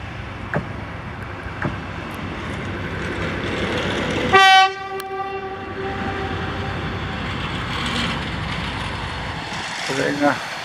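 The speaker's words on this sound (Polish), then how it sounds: "maszyny na nowym torze pierwszym" Railway track maintenance machines running on new track 1 near Bednary station: a steady mechanical rumble throughout, broken midway by one loud, sustained horn blast.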